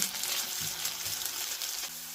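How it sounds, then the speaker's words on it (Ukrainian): Vegetables fry in a little oil in a pan, a steady bright sizzle and crackle running throughout with a few soft stirring scrapes, close and fairly loud, with no voices. "Олії ми додали небагато, щоб овочі смажилися, а не тушкувалися."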